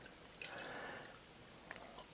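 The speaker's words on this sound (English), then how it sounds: "We're going into our glass with our ice cube." An Old Fashioned cocktail pours through a Hawthorne strainer into a glass over a large ice cube, a faint liquid trickle with small drips and light clinks, quiet and close.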